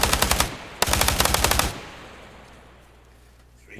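Automatic rifle or machine-gun fire in the video game ArmA 3 with the JSRS sound mod: two loud rapid bursts, the second longer, followed by a fading rumbling tail and distant echoes, with no talking.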